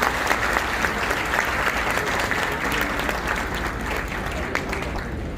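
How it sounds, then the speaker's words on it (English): Thunderous applause for the chief guest at the ITS Dental College Muradnagar White Coat Ceremony 2021: a dense, continuous roar of many hands clapping together, loud and sustained throughout, with no talk over it. "Please give a thunderous applause to respected sir"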